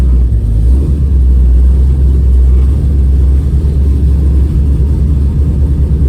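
LQ4-swapped Firebird Trans Am running lean and moving slowly under its own power, with a loud, steady, deep engine rumble throughout and no talk.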